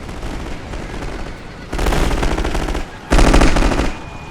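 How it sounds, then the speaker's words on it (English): Submachine gun fire in the WWI strategy game The Great War 6.0, two dense sustained bursts of rapid shots over a background of distant battle noise. "how's the submachine gunners doing?"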